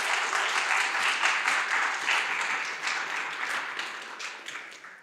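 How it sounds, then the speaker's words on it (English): Audience applause at an engineering sumobot competition event: sustained, dense clapping from a crowd, loud and even before gradually tapering toward the end. "So let's give Leslie Maxfield, Gina Chen, and Gina Napolitan a round of applause."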